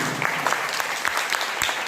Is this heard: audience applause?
yes